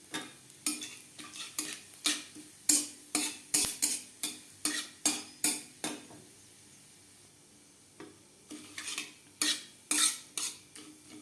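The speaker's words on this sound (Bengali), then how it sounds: "লঙ্কার সাথে জিরে ও তেজপাতা ভেজে নেওয়ার পর" Dried red chilli, cumin seeds and a bay leaf fry in oil in a pan over a low flame. A utensil scrapes and clinks in a steady rhythm over faint sizzling, pausing briefly midway.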